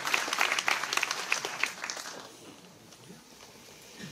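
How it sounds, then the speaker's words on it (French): A crowd applauds volunteers at a New Year's greetings event, dense clapping that is loud at first and then fades away into quieter room noise. "on peut encore les applaudir"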